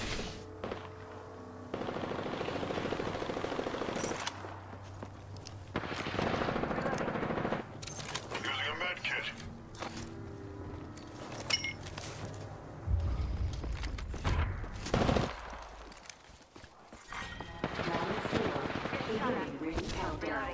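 Apex Legends firefights with repeated bursts of automatic weapon fire, single sharp shots and heavy impacts, rising and falling over about twenty seconds, with a player talking at times among the shooting.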